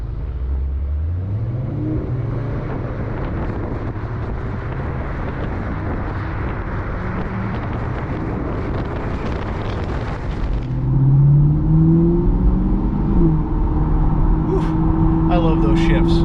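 A sports car engine, either a C8 Corvette or an Acura NSX, revs hard and climbs through a series of gear shifts, loud and rumbling with rising pitch sweeps under a talking voice.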